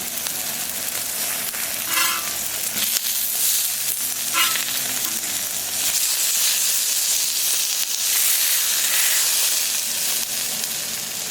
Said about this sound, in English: The sausage is cooking along nice.